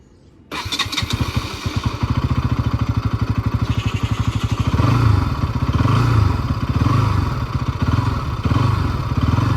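A 2024 Bajaj Pulsar NS200 motorcycle fires up on its self-starter after a short moment of quiet, then settles into a loud, close, rapidly pulsing idle with mechanical clatter.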